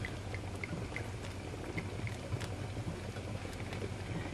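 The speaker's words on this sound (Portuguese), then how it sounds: "Já está a ferver" Chouriço sausage boiling in a pot with a drizzle of olive oil for caldo verde, a quiet continuous bubbling with small pops over a low rumble, no voices.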